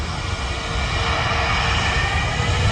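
A Jet2 jet airliner roars steadily while taking off from runway 23 left at Manchester Airport, a loud, continuous engine rumble heard from a nearby viewing park, with no talk.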